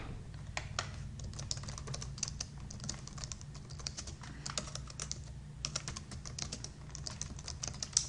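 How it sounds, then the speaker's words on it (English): Steady typing on a computer keyboard, a dense run of quick, close key clicks with brief pauses, over a low background hum and no talking. "Type in my subject, my first and last name, and the assignment."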